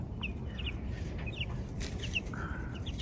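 Young chickens cheep and cluck softly in a brooder with grass and a roosting pole, scattered short peeps repeating at a moderate distance over a quiet background hiss.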